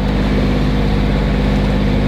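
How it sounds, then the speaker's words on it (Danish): A sailboat runs under its engine into a headwind and oncoming waves on the Isefjord, a loud, steady motor drone blended with wind and water noise throughout. "Vi har modvind og selvfølgelig også bølgerne imod, så vi ligger bare og hugger i den for motor"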